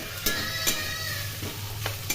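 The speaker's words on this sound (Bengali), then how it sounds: "গরম তেলে 5 ফোড়ন ভেজে দিয়ে এর মধ্যে পাতলা করে কেটে রাখা আলু, বেগুন, শিম ও বরবটি দিয়ে দিলাম" Thin-sliced potato, eggplant, flat beans and yardlong beans fry in hot oil with five-spice seeds, a soft continuous sizzle broken by a few sharp scraping stirs spaced through the moment.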